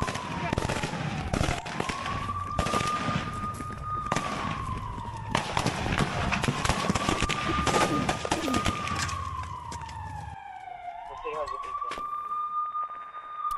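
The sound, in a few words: gunfire between Russian and Ukrainian soldiers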